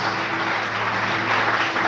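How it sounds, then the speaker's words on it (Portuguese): A church congregation applauds after a Bible reading during a Portuguese-language evening sermon, producing steady, dense clapping that holds at an even level throughout with no pauses. "Você pode dar um aplauso pela palavra do Senhor nessa noite?"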